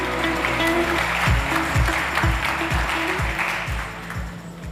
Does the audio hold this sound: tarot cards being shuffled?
no